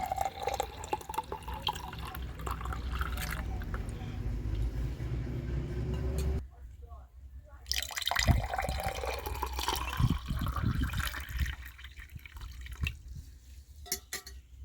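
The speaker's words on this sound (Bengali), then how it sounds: "এইবার দূর্পঘাসের শরবতটা ছেঁকে নিচ্ছি" Durva grass sherbet strained into a vessel, with a running trickle and pour of liquid, a brief pause midway, then more splashing and dripping, close by.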